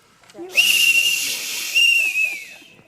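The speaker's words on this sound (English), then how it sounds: "a burnished bronze Captain Crotchety Crime Fighter's whistle" A toy burnished bronze crime fighter's whistle from an old radio show is blown in two shrill, breathy blasts with a steady pitch, the second dipping as it fades, close and loud.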